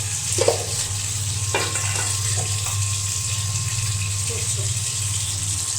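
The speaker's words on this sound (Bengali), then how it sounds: "মাছটা দিয়ে দিয়েছি একটু হালকা করে ভেজে নেব" Fish frying lightly in oil in a pan gives a steady, close sizzle with a constant hiss, broken by a few soft stirring knocks early on.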